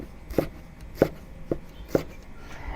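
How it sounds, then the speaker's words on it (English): A sharp knife slices shallots crosswise into thin rings on a cutting board, four crisp, evenly spaced chops close by in a quiet kitchen. "Use a sharp knife, cut the shallots crosswise into thin rings."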